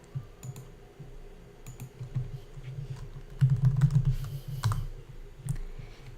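Typing on a computer keyboard while entering input into a Python rock-paper-scissors program, a close series of soft key taps with a busier burst of keystrokes midway and no voices.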